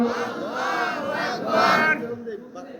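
A large crowd at a Bangla Islamic religious gathering roars back a takbir call in unison, a loud massed shout of voices swelling, peaking near the end, then breaking off into scattered murmurs.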